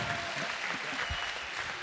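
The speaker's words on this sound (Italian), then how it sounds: "un applauso Michele, viva!" Audience applause at an evening event in Sardinia, a steady dense wash of many hands clapping that fills the short moment without a break, fairly distant and even in level.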